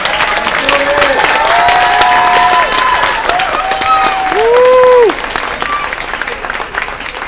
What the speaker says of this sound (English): Let's give them a wonderful applause.